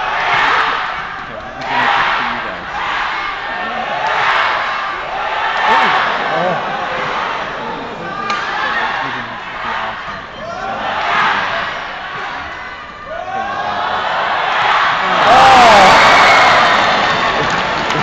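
A large crowd at the All England 2014 badminton mixed doubles final roars and cheers, with repeated rhythmic surges of shouting and applause, a louder closing burst, and nearby voices speaking underneath.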